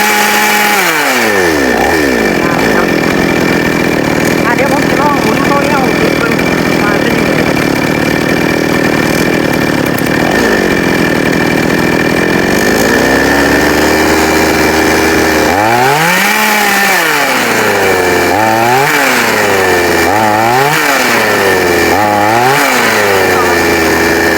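A small chainsaw engine being tuned at the carburetor revs steadily at high speed, then drops and rises in a series of repeated throttle blips near the end, loud and close with no talk.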